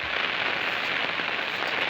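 Rain falls steadily on surfaces outdoors during the monsoon in a Gujarat village, a dense, even hiss with soft scattered drops and no voices.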